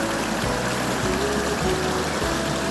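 Elk Creek flows through the woods in a steady, even rush of water that fills the whole stretch, with no voices.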